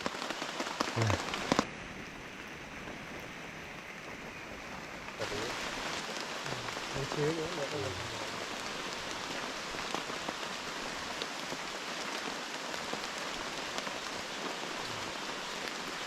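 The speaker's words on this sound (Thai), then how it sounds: "ยิ่งฝนตกแบบนี้" Heavy rain pours steadily on a deep forest near the border, a dense, loud and continuous hiss with a few scattered crackles and no talking.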